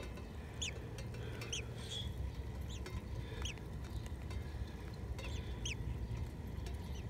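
Newly hatched baby robin nestlings in a nest give faint, thin high cheeps in scattered bursts over a steady low outdoor rumble.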